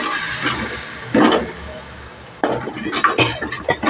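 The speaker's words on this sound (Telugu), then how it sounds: "ఇప్పుడు మొత్తం వేగాక టమాటా పేస్ట్ వేసుకొని పచ్చివాసన పోయే వరకు వేపుకోవాలి." Tomato paste frying in a pan while being stirred with a spoon, giving scraping and clinking strokes against the metal in irregular bursts over a soft sizzle, close by with occasional pauses.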